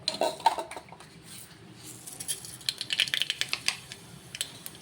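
Mustard seeds dropped into hot coconut oil in a pressure cooker set off a quiet, rising patter of sharp crackles and pops, close by and without speech.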